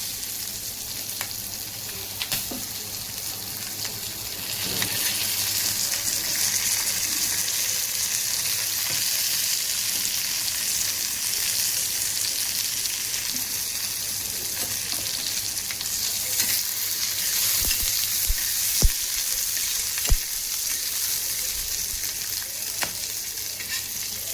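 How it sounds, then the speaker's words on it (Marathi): Chilies and coriander seeds roasting in a pan give a continuous dry sizzle and crackle, with occasional scraping and tapping as they are stirred. "मिरच्या आणि धने भाजून घेतो."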